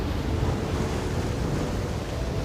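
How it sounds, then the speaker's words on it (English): Ocean waves surging in a steady, dense wash of surf with wind rumble beneath, continuous and fairly loud, with no voices. "rogue waves, massive, towering walls of water that appear out of nowhere without any warning signs"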